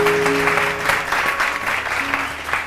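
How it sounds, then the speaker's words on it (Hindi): Studio audience at a morning TV show applauds with steady, dense clapping held at a loud, even level throughout. "इनके लिए बहुत सारी तालियां।"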